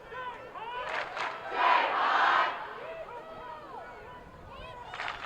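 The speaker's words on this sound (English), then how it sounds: "Jesuit faithful, loud and present." Lacrosse fans of Jesuit at a championship final, a crowd voicing loud cheers and yells that swell into a dense roar midway before easing back to a steady murmur.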